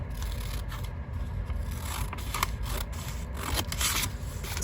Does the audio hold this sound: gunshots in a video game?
no